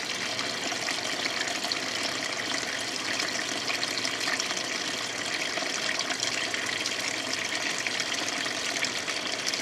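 Water runs in a steady, unbroken gush during a wash, holding at an even level for the whole stretch with no voices over it.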